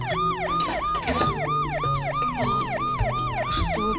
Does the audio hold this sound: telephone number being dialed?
no